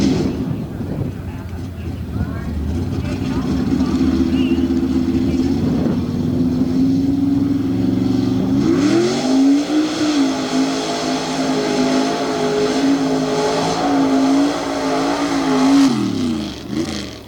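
A GMC pickup truck tears through a Tough Trucks Challenge run in Lima, Ohio, its loud engine roaring and revving steadily for most of the stretch, with an announcer talking over it.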